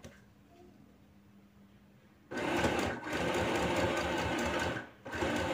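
A YOKO YK1803 mini portable sewing machine stitches in two loud, steady bursts after a quiet start, with a brief pause between them.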